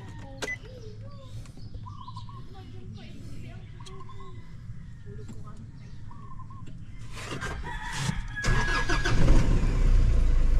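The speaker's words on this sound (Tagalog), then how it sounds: "Painitin na natin ang makina." A car engine in the Philippines turns over and settles into a low idle after the transmission is set to neutral, with a rooster crowing in the background; the engine noise swells louder toward the end.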